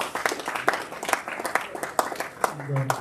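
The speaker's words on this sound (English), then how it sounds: "Big round of applause for Gavin Hyman." A room of members at a Rotary club meeting claps for a raffle winner: sharp individual claps rising above a low murmur, with a voice speaking over the end.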